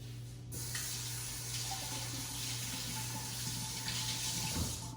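Water from a tap pours into a cooking pot for pork sinigang, beginning abruptly after a brief pause and then running in a steady, splashing, close-up stream until the end.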